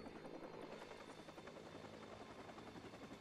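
A helicopter in the video game Watch Dogs: steady rotor thrum and engine whine, continuous and fairly close, with no talking over it.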